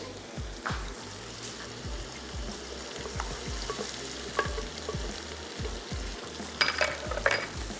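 Meat and potato curry mixture with yogurt, onion and tomato fries and is stirred in a pot, steady sizzling with repeated scraping stir strokes close up, no talking.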